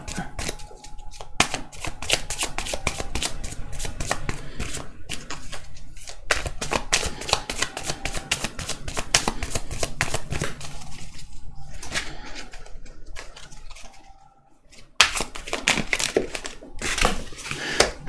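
Tarot cards are shuffled for a 2020 Sagittarius yearly reading, giving a steady run of quick, close papery riffles and flicks with brief pauses near the middle and end, and no talking.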